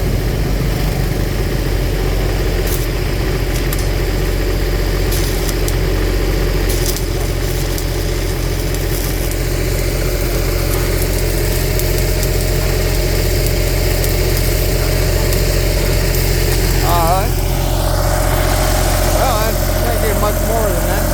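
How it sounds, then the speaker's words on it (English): A Big Blue 500X engine-driven welding machine, an older model, idles steadily with a continuous low drone and vibration, with voices talking over it. "Real nice welding machine."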